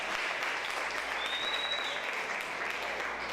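A church congregation applauds a girl at a Baptist service, steady dense clapping filling the room for several seconds, with a faint tonal whistle passing midway.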